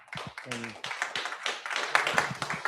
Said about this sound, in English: Let's give him a big hand clap.